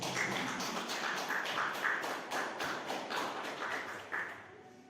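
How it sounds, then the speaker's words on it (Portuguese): A church congregation applauds during a sermon, a steady dense wash of many hands clapping with a few sharper beats, fairly distant in the room and fading near the end. "Quem pode aplaudir o Senhor Jesus?"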